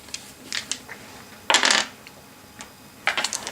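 Dice rattle and clatter in short bursts during a tabletop board wargame, several quick clicking rolls with one louder tumble in the middle and another toward the end, close and clear with no talk.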